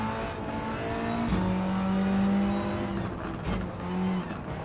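In Gran Turismo 7, race car engines rev while overtaking a GR Super RC 2020: a loud engine drone shifts down in pitch, holds steady and climbs again, with a brief rumble of another car alongside.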